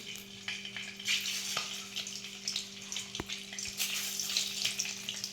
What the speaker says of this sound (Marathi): आपण अंडे असे टाकून घेऊ